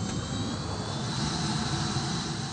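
A steady, continuous roar from a military airplane engine, moderately loud and unbroken, with no voices.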